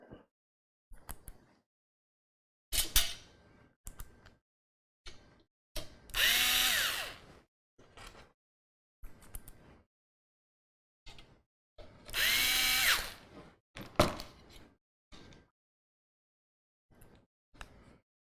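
A power screwdriver drives screws into an NZXT PC case while a liquid CPU cooler is mounted, giving short quiet whirring bursts, including two longer louder runs, separated by silence and faint handling clicks.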